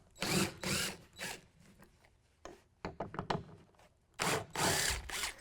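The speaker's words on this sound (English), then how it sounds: "We're going to use a T40 Torx bit to pull those out." A power driver fitted with a T40 Torx bit backs tiedown bolts out of a pickup truck bed in several close, loud whirring bursts separated by short pauses and ratcheting clicks, with no talking.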